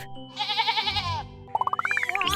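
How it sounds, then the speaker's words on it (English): A sheep bleats in a long wavering cry, followed by a rising bouncy cartoon sound effect, set against light background music for a children's alphabet lesson. "S is for sheep."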